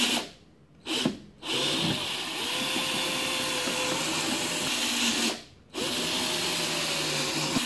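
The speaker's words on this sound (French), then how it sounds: "On refait des trous." Power drill boring holes through metal bars in a piece of furniture under repair, a steady close whine running most of the time with two brief pauses where the motor stops and restarts.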